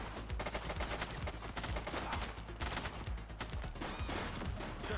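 Rapid gunfire in the police video game The Precinct during a shootout with an armed suspect, loud, dense volleys of shots rattling continuously throughout with no pause.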